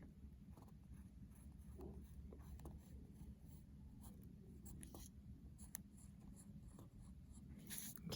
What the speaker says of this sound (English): I'm drawing my asymptotes right now